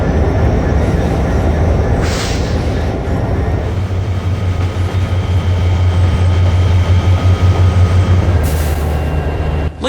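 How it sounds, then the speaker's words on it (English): An empty coal freight train in a video game rumbles steadily along with a loud low engine drone and rolling clatter, with brief hissing bursts near the start and end. "as Eli and Don brought an empty coal train from Leetsdale into Reading"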